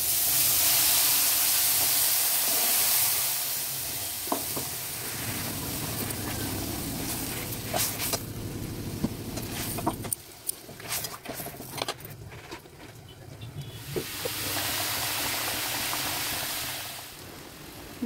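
Mustard-paste fish curry (jhal) simmers in a pan, giving off a soft steady bubbling hiss with scattered pops and clinks of stirring.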